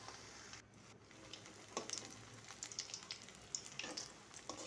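Potato and noodle snacks fry in hot oil in a wok, giving a steady, close crackling sizzle with bursts of sharper popping and no voices.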